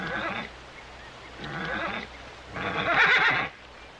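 A horse on the soundtrack of a 1965 episode of the Western TV series Bonanza whinnies in three close, rising calls separated by short pauses, the last one the loudest.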